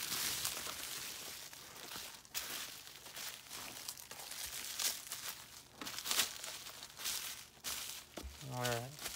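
Packing paper crinkling and rustling as it is folded around cobalt blue Arcoroc glass mugs, close crumpling bursts of varying loudness with a brief low thump near the end.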